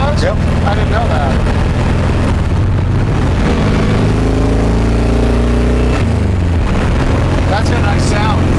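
A 1969 Pontiac Firebird engine with dual exhaust rumbles loudly and continuously with a deep exhaust tone, its pitch shifting as it revs.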